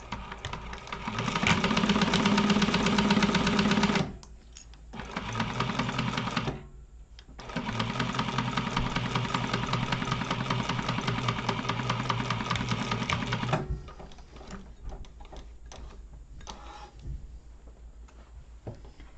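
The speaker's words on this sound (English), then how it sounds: "I'm going to just sew across that top edge with 3/8 of an inch seam allowance." A sewing machine stitches across the top edge of a wallet in long runs of fast, steady mechanical whirring, with short pauses between runs, then a quieter stretch with faint handling sounds. No one talks.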